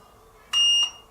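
Two short electronic beeps in quick succession from a Sanrock GD65A mini drone starting up, a bright tonal chirp over a faint steady hum.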